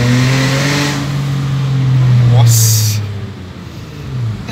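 A 2008 Hyundai Azera engine, fitted with an aftermarket throttle module, revs loudly and steadily, its pitch rising and falling, with a brief hiss of wind partway through.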